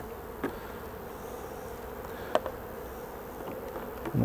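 A steady buzz of many honey bees in a poly hive hums close by, continuous and even, with a few faint clicks and taps.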